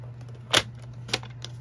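A paper trimmer slices a half-inch cardstock strip in two quick, crisp swipes about half a second apart, with a faint third tick after, over a steady low electrical hum.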